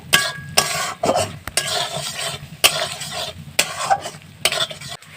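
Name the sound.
stirring curry with turmeric in a pan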